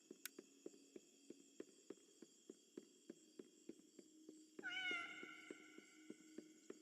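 A cat in the Indigo Park video game lets out one bright, sustained meow, heard over a regular ticking or footstep pulse in a quiet game scene.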